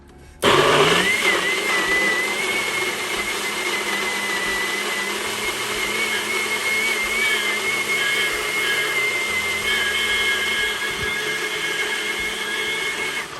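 A blender whirs steadily through spinach pancake batter for a vegan recipe, starting abruptly and running loud and continuous at close range with a sustained high motor whine, no voices over it.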